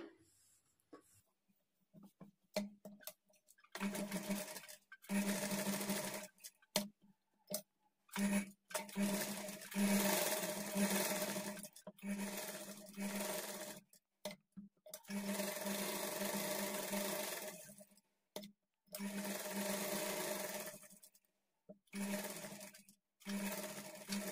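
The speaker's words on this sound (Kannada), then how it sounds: "ಮೈನ್ ಫ್ಯಾಬ್ರಿಕ್ ನೀಟಾಗಿ ಈ ಥರ ಸರಿ ಮಾಡಿಕೊಂಡು ಸ್ಟಿಚ್ ಮಾಡ್ಕೊಳ್ಳಿ" A sewing machine stitches lehenga lining to the main fabric in repeated bursts of a few seconds each, separated by short pauses, moderately close and steady in tone.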